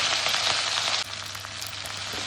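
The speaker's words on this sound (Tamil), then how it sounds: "கருவேப்பிலை, தக்காளி போட்டு கொஞ்சம் நல்லா வதங்கட்டும்." Onions, curry leaves and tomato sautéing in a pan, a steady close hiss of sizzling oil that drops slightly in intensity partway through and then continues evenly, with no voices.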